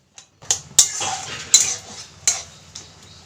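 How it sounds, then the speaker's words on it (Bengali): A spatula scrapes and knocks against a pan while stirring watermelon chutney, about five sharp metallic clinks spaced unevenly, with a soft sizzle between them. "এর মাঝে খুন্তি দিয়ে এটাকে নেড়ে ছেড়ে দিতে হবে যাতে তলা ধরে না যায়"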